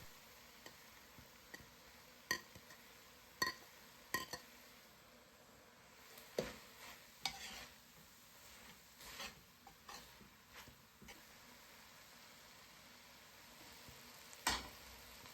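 Minced meat sizzling in a pan with bell peppers, a faint steady fry broken by sharp clicks and stirring knocks at irregular intervals.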